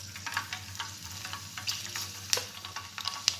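Garlic fries in hot mustard oil with ajwain, a soft, steady sizzle with faint crackles and a few sharper pops, close and quiet, with no talking.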